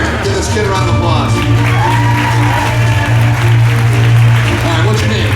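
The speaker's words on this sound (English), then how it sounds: "give this kid a round of applause" Audience at a theme park magic show applauds and cheers a child volunteer, with whoops and shouts over a steady low hum, loud and close throughout.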